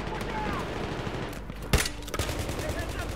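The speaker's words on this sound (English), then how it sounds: "It's the M320, but it's a LVG, which means it fires a grenade," An M320 grenade launcher fires in Battlefield 3 Gun Master on the Ziba Tower map, with a single sharp blast standing out amid continuous distant gunfire and crackling battle noise.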